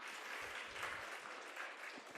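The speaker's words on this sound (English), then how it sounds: "Please clap for him." A classroom group gives a student a short burst of soft, distant clapping that stays steady and faint for a couple of seconds.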